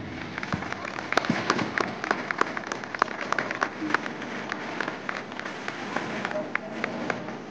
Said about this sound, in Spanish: Fuerte aplauso, por favor.